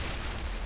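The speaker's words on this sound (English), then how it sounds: "I'm hit by a grenade." A grenade blast in Mass Effect hits as a brief, dense, loud rumbling roar with heavy low end, filling the short moment without any voice.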